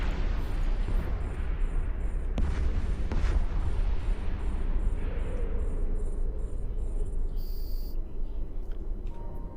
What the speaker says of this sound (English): Look at the awesome explosions that are right in your face.